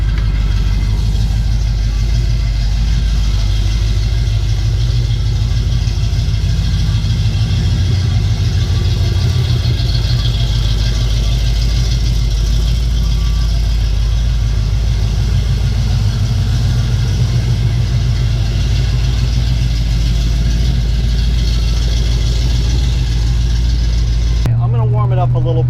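A 1970 Chevrolet Nova V8 idles with a Flowmaster-style exhaust, giving a steady, deep burbling rumble throughout while someone talks over it.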